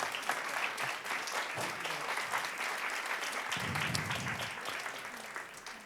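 An audience applauds Michel Tremblay at a talk, a continuous, fairly soft wash of many hands clapping from start to finish, slightly thinning near the end.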